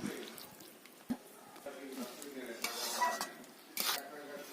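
A spoon stirs food in a metal cooking pot, scraping and clinking against the sides in irregular strokes with a few sharper knocks, close by and fairly quiet.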